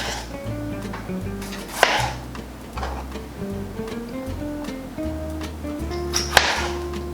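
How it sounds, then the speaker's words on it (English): A kitchen knife cuts tomatoes on a board for pasta sauce, giving light, irregular taps and chops under steady background music. "We're going to start off by cutting our tomatoes and putting them in a bowl."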